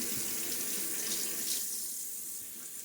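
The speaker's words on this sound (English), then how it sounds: "Washing off the threads of the tub here so that we don't get soap buildup." Running tap water rinses soap from the threads of a shaving soap tub, a steady close hiss of flowing water with no talk.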